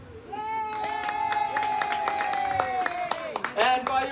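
An audience claps and cheers for the captain, a dense patter of hand claps that runs steadily throughout while a voice carries over the top.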